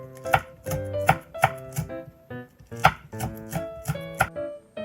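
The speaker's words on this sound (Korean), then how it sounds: "청양고추 2개도 송송 썰어주세요." A knife chops green onion and cheongyang chili peppers on a board, a close, loud series of sharp rhythmic chops in short bursts with brief pauses.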